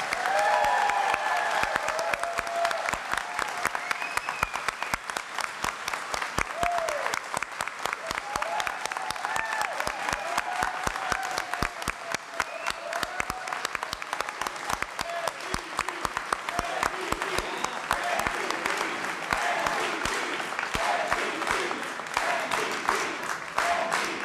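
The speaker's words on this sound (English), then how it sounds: "Audience, it's time to let out those applause around." Sustained audience applause fills the hall at the close of the 2017 NDP leadership debate in Sudbury, a dense steady clapping with faint cheers that holds at full strength throughout.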